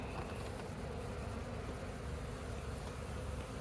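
Bees from a hollow log swarm in a dense, steady buzz, faint and continuous for the whole stretch with no talking.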